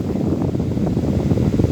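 An old Urban stand fan with a replacement blade blows air in a steady, close whooshing rush, a continuous broadband roar without pauses.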